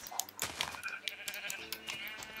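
Sheep in Minecraft bleating in short wavering calls, several quick bleats in a row, close and moderately loud, mixed with soft clicks and thumps of punching.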